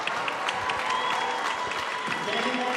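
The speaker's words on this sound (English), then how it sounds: "By the way, Joe, a very enthusiastic crowd on hand here." An enthusiastic crowd at a high school game between Blue Valley Northwest and Olathe East claps continuously, a dense, loud wash of applause with no pauses.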